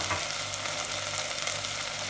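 Ground spices sizzle and fry steadily in a hot pan for Egyptian koshari, a dense, continuous crackling hiss with no voices.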